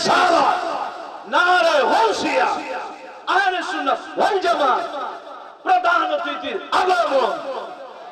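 A large crowd at a religious gathering bellows 'Allahu Akbar' together in reply to a takbir call, with three loud chanted bursts, each a cluster of voices rising and falling, separated by short pauses.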